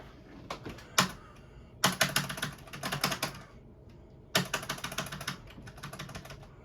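Computer keyboard typing in bursts of rapid clicking keystrokes, close and fairly crisp, with short pauses between runs, during a Windows 7 install on a Gateway DX4850 desktop.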